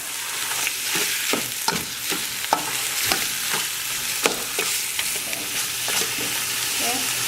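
Meat fries in a pot for Khmer coconut milk soup, a loud, dense sizzle running throughout with rhythmic stirring scrapes and clacks, up close and alone.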